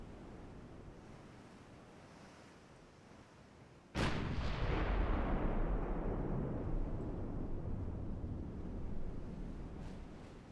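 Naval gunfire in the warship game Ultimate Admiral Dreadnoughts: one heavy, sudden boom about four seconds in, followed by a long rumbling roar that slowly fades over a steady wash of sea and wind noise.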